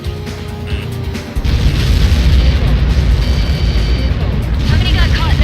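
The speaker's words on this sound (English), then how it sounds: "How many got caught in that explosion?" A large projectile impact in Ace Combat 7 sets off an explosion with a sudden heavy boom, followed by a sustained loud roar and rumble over several seconds, mixed with aircraft noise and radio chatter.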